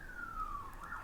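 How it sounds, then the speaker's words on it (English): An emergency vehicle siren wails outside, faint and distant, a single tone sliding slowly downward and then rising again. "I can hear sirens"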